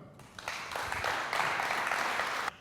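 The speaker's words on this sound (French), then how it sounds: "On les applaudit quand même" Studio audience applause on a French-language game show, a steady burst of clapping that starts abruptly, holds evenly for about two seconds, then cuts off sharply.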